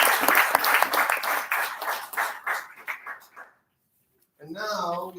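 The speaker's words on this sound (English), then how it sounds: "Let's give a big applause for them." An audience claps at a peace studies event, the applause loud at first then thinning out and fading to silence, after which a voice begins speaking.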